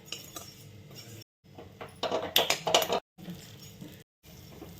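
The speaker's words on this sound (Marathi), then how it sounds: "याच तुपात आपल्याला शेवाया भाजून घ्यायच्या आहे. शेवाया घेतले छान परतून घ्यायच्या." Vermicelli roasting and being stirred in ghee in a pan, a spoon scraping and clinking against the metal pan in short bursts with brief gaps, close and moderately quiet, no voices.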